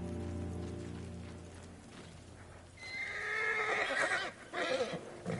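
A horse in the video game Ghost of Tsushima whinnies loudly after a low hum, a long quavering neigh followed by a shorter snort-like call, close and clear.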